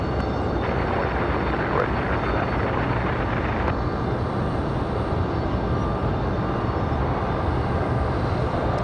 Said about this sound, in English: Nice buttery smooth landing for Southwest.